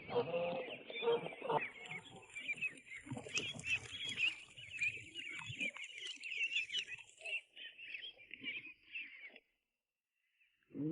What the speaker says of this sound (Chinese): 等鸭子吃饱了它就会走。